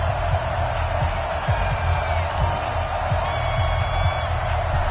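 Video game NFL stadium crowd at a Minnesota Vikings versus Green Bay Packers match, a steady roar of cheering with low rumbling thumps underneath, fairly loud throughout.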